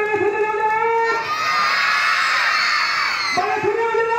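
Children's audience at a summer festival children's theatre show in the Eastern Province shouting loudly together, a sustained crowd roar of young voices after a host's prompt.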